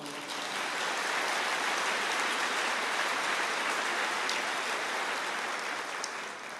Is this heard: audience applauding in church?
yes